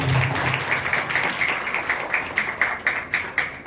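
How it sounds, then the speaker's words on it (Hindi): A church congregation claps loudly together for God in rapid, fairly even rhythmic beats that hold steady throughout, filling the room with a dense crowd of hands. "सभी जोर से तालियां बजाएंगे परमेश्वर के लिए।"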